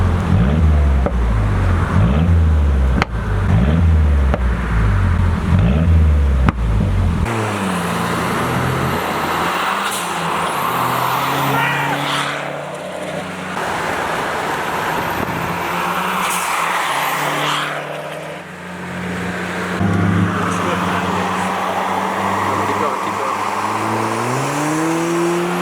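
A Mazdaspeed 3 with Stage 2 modifications running 22 psi of boost accelerates at full throttle, its engine note climbing through the gears with shift breaks, loud and close from inside the car, with tire noise under the engine and no talking.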